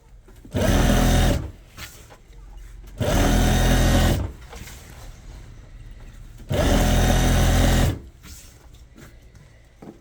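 Sewing machine stitching strip lace onto a dupatta, three loud bursts of rapid whirring stitching, each a second or so long, separated by quieter pauses with faint handling noise.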